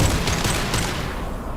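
Impact shot gunfire in Mass Effect 2, a dense volley of loud close shots with heavy low thumps that thins and fades toward the end.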